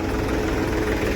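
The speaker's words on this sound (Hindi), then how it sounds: "जो है ट्रैक्टर खेत में आ गया, बंटी भाई जो है टेस्टिंग करे पहली ब्रो" A tractor engine idles steadily in a farm field, loud and close, a dense continuous low rumble with no voices over it.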